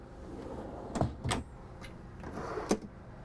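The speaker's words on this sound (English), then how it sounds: "You got your silverware drawer." A silverware drawer in a 2022 Antero Longs Peak camper van slides and shuts, with a few sharp clunks and rattles amid quiet room tone.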